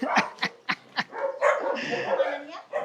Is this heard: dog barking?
yes